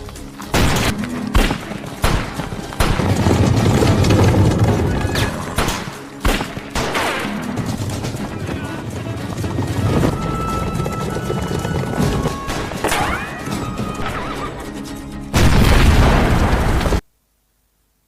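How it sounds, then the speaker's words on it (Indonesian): Dynamite blows up a tunnel in a film scene. Loud blasts and bursts pile up over the movie soundtrack, with hoofbeat-like rhythms, crashes and a final heavy rumble before sudden silence. "dengan meledakkan terowongan dengan dinamit hingga serif dan pengawalnya tertahan"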